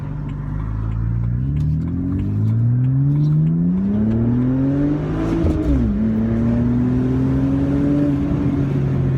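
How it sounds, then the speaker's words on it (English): A BMW E90 328i straight-six with a muffler delete accelerates hard, its loud raspy exhaust note rising through the revs, dipping briefly at a shift, then climbing again close up. "I like the straight sixes better rather than their turbo fours. They sound so much better."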